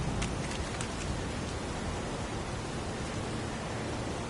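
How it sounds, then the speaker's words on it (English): Heavy pouring rain in the video game Heavy Rain, a dense, steady hiss of downpour with a few faint drip accents early, constant and enveloping with no voices. "It's pouring rain."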